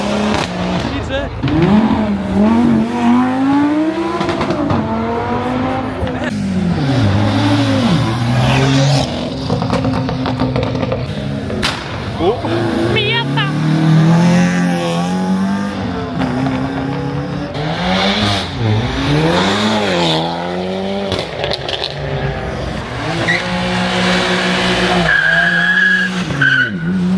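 Cars at a Belgian car meet rev hard and skid, with loud rising and falling engine roars, repeated tire squeals and screeching slides close by, continuous over nearly half a minute with voices talking underneath.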